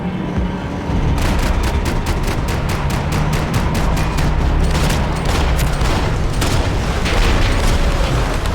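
Gunfire in the video game Max Payne 3, a loud, rapid burst of repeated shots rattling over a booming background for several seconds after a short quieter opening.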